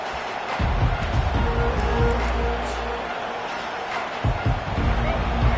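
A stadium crowd in the College Football 25 video game roars in a broad, steady wash of noise. Some deeper rumbling and scattered voices sit inside the din.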